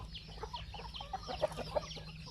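Hens of a small Thai backyard flock in a fenced, netted semi-free-range coop cluck in soft, scattered calls over steady low background hum, fairly faint and at middle distance, with no talking.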